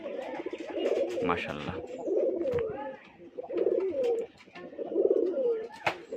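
Rajshahi Giribaz pigeons cooing close by in a room, repeated throaty rolling coos in bursts with short pauses and a few wing or movement sounds; one brief spoken word.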